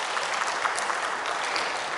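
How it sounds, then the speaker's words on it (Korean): A church congregation claps together in a steady, even burst of applause that fills the room for the whole moment. "박수 한번 저희 세 분 다 위에서 박수하겠습니다"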